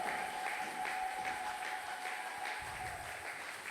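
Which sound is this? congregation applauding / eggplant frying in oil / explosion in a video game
congregation applauding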